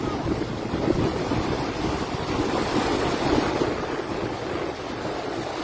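Floodwater roars over the Bustos Dam in the Philippines after its rubber gate broke, a loud, continuous rushing roar with wind buffeting the microphone.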